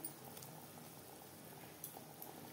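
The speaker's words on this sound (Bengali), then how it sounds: "গ্রেভি বেশ ভালো করে ফুটতে শুরু করে দিয়েছে" Mustard-paste gravy for a bele fish curry boils in a pan with a continuous soft bubbling patter and a few small pops, faint and close.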